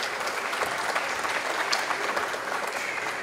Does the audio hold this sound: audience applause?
yes